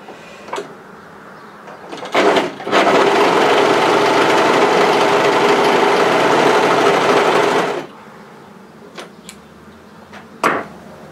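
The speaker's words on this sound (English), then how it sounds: "Then turn your machine on, take your spare fabric and just run it through to catch any oil that may have dropped." Brother 1034D serger overlocker running spare fabric through after oiling, a single steady whirring run of about five seconds, loud and close, framed by brief clicks and handling sounds before and after.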